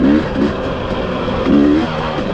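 Husqvarna 300 motorcycle engine held at a steady, loud idle-to-mid rev, with a couple of brief throttle blips rising and falling over two seconds.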